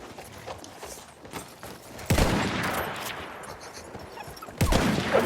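Sniper fire in the Battlefield 1 video game, heard as a few loud, sharp shots with dense gunfire and battle noise between them.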